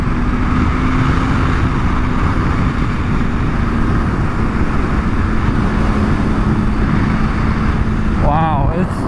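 Loud, steady drone of a 2022 BMW S1000RR superbike engine underway, mixed with heavy wind rush for the full stretch, holding an even pitch with a brief rising whine near the end.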